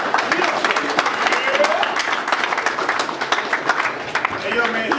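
Crowd at a boxing event clapping for a fighter's introduction, a dense patter of applause with an announcer's voice talking over it.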